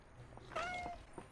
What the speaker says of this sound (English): The cat meowed in a perfect time for that